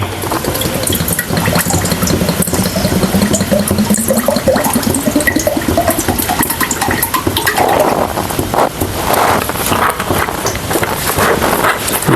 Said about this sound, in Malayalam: അപ്പം നമുക്ക് കായ വറക്കാനുള്ള എണ്ണ ഒഴിച്ചു കൊടുക്കാം